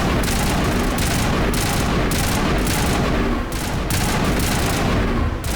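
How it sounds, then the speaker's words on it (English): Continuous gunfire and a series of booms from a grenade explosion in the Mass Effect Legendary Edition video game, loud and dense throughout with no speech over it. "Grenade out."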